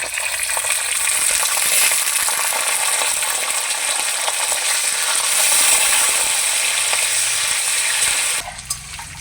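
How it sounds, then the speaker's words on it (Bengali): Peanuts, cashews and soaked, drained raisins fry together in a pan, giving a steady, loud, close sizzle that runs unbroken for about eight seconds before easing off near the end; no one speaks. "চিনে বাদাম, কাজু বাদাম, কিশমিশ একসঙ্গে ভেজে নিয়েছি, ভাজা হয়ে গেছে"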